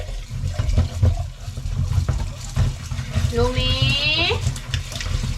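Tap water running to wash potted plants, a steady splashing stream under a near voice that calls out a name, with a brief rising squeak toward the end.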